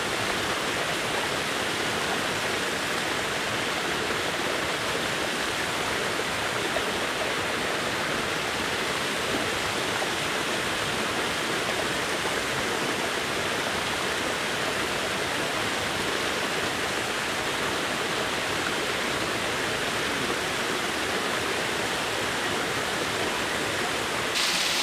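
Waterfall at Erawan National Park, a steady, dense rush of falling water that roars continuously and evenly throughout, close and full, with no voices over it.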